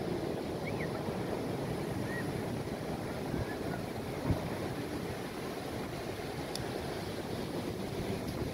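Rough sea at Uppada beach during a cyclone: a constant, dense roar of surf and wind buffeting the microphone, with no clear breaks between waves.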